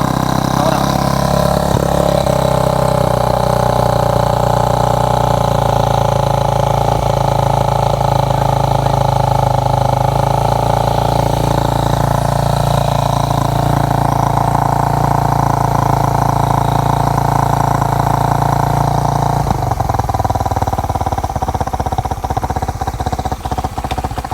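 An engine running on its first start while smoking, a loud steady close idle with a rough, mid-pitched drone that changes tone and roughens near the end, with talk over it.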